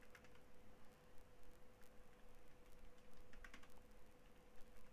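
Light keystrokes on a computer keyboard as a password is entered in a terminal, a quiet scatter of soft clicks in an irregular typing rhythm over a steady low hum.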